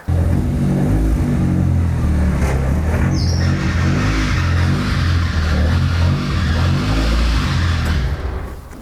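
A BMW E36 with an M42/M44 engine fitted with an electric power steering conversion starts and runs, a loud close rumbling idle with rising and falling revs and a brief squeal, then settles before cutting off at the end.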